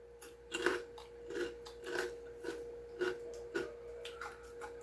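Loud, crisp crunching of crispy pork skin chicharon being chewed close up, about six evenly spaced bites over a faint steady hum.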